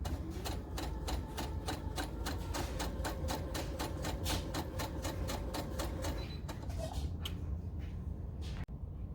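Close and loud, a sewing machine stitches fabric for a scrunchie in a fast, steady rhythmic chatter. It slows and stops near the end, followed by a brief click.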